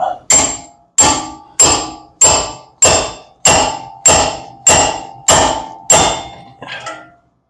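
A heavy hammer strikes a ball joint fork tool on a 1991 Honda Civic Wagon: nine loud, evenly spaced metallic blows ring out close by, followed by one fainter final hit.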